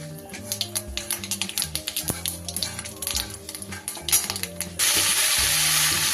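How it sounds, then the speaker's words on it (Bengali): Dried red chillies and black mustard seeds crackle and splutter in leftover hot oil in a kadai, a rapid ratchet-like popping that swells into a dense, steady sizzle near the end; no one speaks. "এই অবশিষ্ট তেলের মধ্যেই দিয়ে দিচ্ছি দুটো শুকনো লঙ্কা আর একটু কালো সর্ষে ফোড়নে দিয়ে দিলাম"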